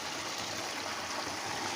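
Water gushes from six stone water spouts at Bagdhara, forming a steady, continuous rushing flow nearby, with no talk over it.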